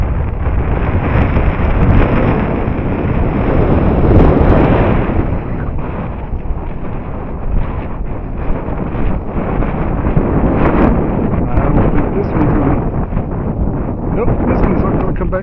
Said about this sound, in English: Getting gusty.